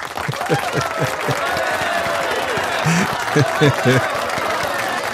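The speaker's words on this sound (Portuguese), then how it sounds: "Cadê as palmas?" A crowd applauds with dense, continuous clapping while someone speaks over it in Portuguese, his voice loud and near above the steady applause.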